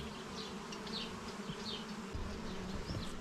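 Honey bees hum in a dense, steady buzz around a hive being split, many insects droning together close by, with occasional louder passes.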